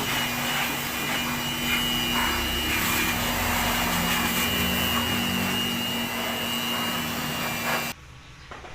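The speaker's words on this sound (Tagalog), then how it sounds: "gagamit tayo ng blower para mabilis matuyo" A loud, steady electric blower drying air conditioner parts roars continuously with a constant whine, then abruptly cuts off near the end.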